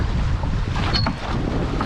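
Strong wind buffets a fishing boat at sea at night, a steady, loud rushing roar with water washing against the hull throughout.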